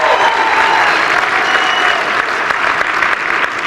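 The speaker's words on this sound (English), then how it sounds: "Let's give them a round of applause, absolutely." Sustained, loud audience applause at a leadership talk fills the whole stretch, a dense steady wash of clapping with no voices over it.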